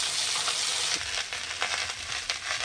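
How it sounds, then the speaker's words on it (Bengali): Small chuno fish fry in oil in a pan, giving a steady, close, dense sizzle with scattered crackles and pops throughout, no voices. "আর এখানে কটা ভাজিয়েও দিয়েছি মাছগুলো ভেজে নিই"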